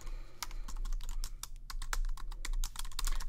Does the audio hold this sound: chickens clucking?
no